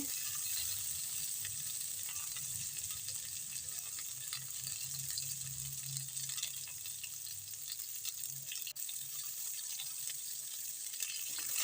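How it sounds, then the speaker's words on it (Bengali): Cauliflower and potatoes fry in a pan with a soft, continuous hissing sizzle, fairly faint and even, with a few light stirring sounds and no voices. "ফুলকপি আর আলুটা ভাজা হচ্ছে"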